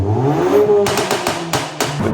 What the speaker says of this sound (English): it had a full KMS back box on it, which sounded insane